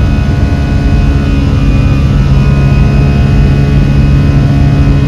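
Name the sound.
airplane flying after takeoff from Pune airport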